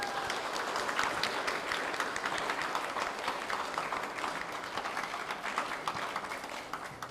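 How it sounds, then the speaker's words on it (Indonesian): A church congregation claps continuously at a fairly even level during a Sunday service, the applause heard from some distance and lasting throughout. "Mari kita beri sambut tangan, tepuk tangan yang meriah."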